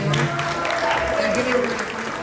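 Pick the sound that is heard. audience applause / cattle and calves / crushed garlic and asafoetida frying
audience applause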